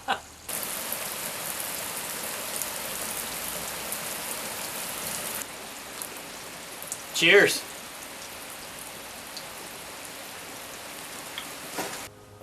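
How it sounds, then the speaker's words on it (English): Steady outdoor rain in Oregon, a broad even hiss of drops on surfaces running through most of the stretch, with a brief voice cutting in once near the middle. "It started raining on cue."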